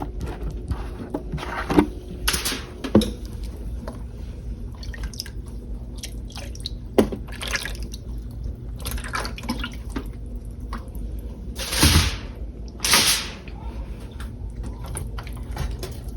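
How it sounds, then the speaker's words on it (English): Water is poured and dripped into a pan of barbecue ribs, scattered splashes and drips over several seconds with quiet kitchen background. "I'm gonna add some water to this."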